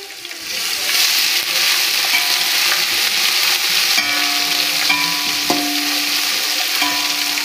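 Garlic ginger paste hits a pan of golden brown onions and sizzles loudly and steadily, with the scrape and clink of a spoon stirring through it, close up and without talking.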